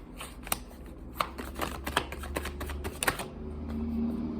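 Tarot cards are shuffled by hand up close, a run of quick flicking riffles and soft taps, fairly quiet.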